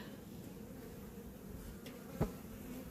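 Honey bees hum softly around an open hive during an inspection, a faint, steady buzz with one brief louder pass.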